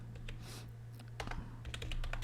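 Quick, clicking keystrokes on a computer keyboard tap out in irregular bursts, close and fairly quiet over a steady low hum.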